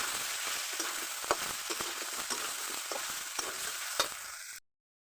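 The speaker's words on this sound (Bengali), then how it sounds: "ভালো করে কষিয়ে নেবো সুন্দর করে" Potatoes, soybeans and ground spice paste stir-fried in a pan, giving a soft, steady sizzle with scattered scraping stirs, fairly quiet and alone, ending abruptly.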